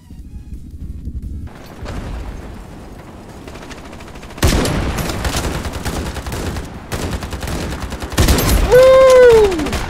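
Gunfire in the PC-only online shooter Ironsight: quiet at first, then loud bursts of rapid automatic fire from about four seconds on, with a rising whistle near the end.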